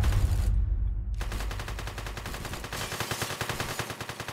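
Automatic gunfire in a bank robbery video game: a brief loud blast, a short gap, then a sustained rapid burst of shots that continues to the end.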